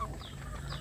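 Adult village chickens (ayam kampung) cluck softly and briefly over a low, steady background hum, with a couple of short rising calls.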